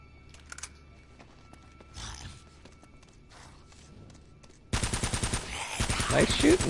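Gunfire in the video game Uncharted: after a few seconds of quiet thuds and ambient game sounds, a loud, sustained burst of rapid automatic fire breaks out and continues to the end.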